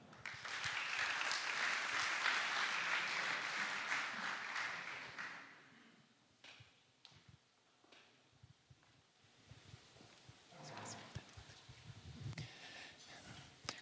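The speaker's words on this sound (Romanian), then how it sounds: "Să-i aplaudăm!" Audience applause at a launch event held in Romania's Palace of Parliament, dense and loud clapping for about five seconds that fades out, followed by scattered rustling, shuffling and a few faint handling noises.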